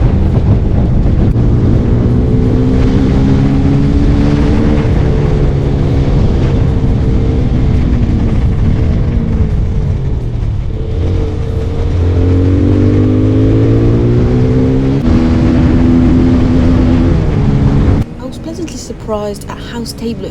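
A Peugeot PM-01 125 motorcycle roars at speed with wind rush, its engine pitch rising and falling through gear changes while overtaking, loud and continuous, dropping off sharply near the end.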